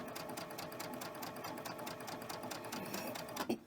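Steady, fast whirring of a sewing machine stitching quilt pieces together, close and continuous, ending in a brief clunk.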